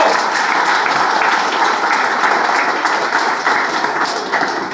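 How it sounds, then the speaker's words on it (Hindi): Students in a class clap for themselves in a sustained, loud burst of applause from many hands, even and continuous, tapering slightly at the end with faint voices beneath. "और एक बार क्लास शुरू करने पहले अपने लिए जोरदार ताली"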